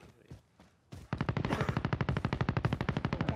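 Gunfire from an MP7 submachine gun in Call of Duty: Warzone: after a couple of faint shots, a long, loud, rapid automatic burst rattles on close by at a fast, steady rate.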